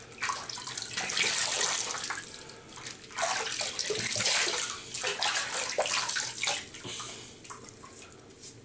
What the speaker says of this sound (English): I might edit out some of the splashing